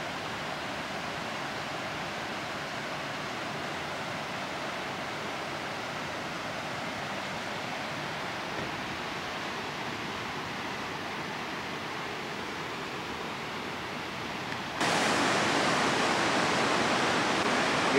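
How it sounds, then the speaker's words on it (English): Shell Falls, a small waterfall, pours in a steady, dense white-water roar that sounds close and unbroken, growing louder near the end. "It's the Shell Falls. I guess it's just like a little waterfall."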